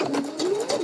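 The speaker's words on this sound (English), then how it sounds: "Back stitching." A sewing machine runs a quick burst of back stitching on fabric, its motor whirring with a rising and falling hum and rapid needle ticks, close and brief.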